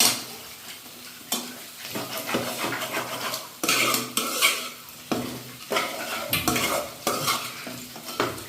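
Ginger and garlic fry in a pan and start catching on the bottom, loud busy stirring with metal spoon scrapes and clanks against the pot over a constant sizzle.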